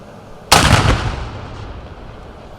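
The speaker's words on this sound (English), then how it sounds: "a cannon firing could be seen and heard across Pittsburg State University's campus" A single loud ceremonial cannon boom cracks out on a university campus in Pittsburg, Kansas, then rolls and fades into a long echoing rumble over a quiet outdoor background.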